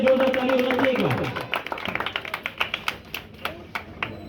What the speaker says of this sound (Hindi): अमित के लिए जोरदार ताली होना चाहिए एक बार